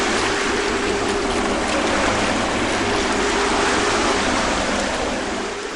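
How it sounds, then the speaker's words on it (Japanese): Waves hit the hull of a small solo sailing yacht out on the open ocean, making a loud, continuous wash and rush of water with no breaks and no voices. "白い帆に風を受けて傾きながら走るヨット。 波が横腹を打つたびにさらに傾いて横倒しに近くなる。"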